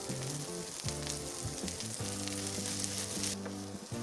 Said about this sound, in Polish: Smażymy ją na średnim ogniu, bez pośpiechu, aż zrobi się miękka, złota, lekko brązowa.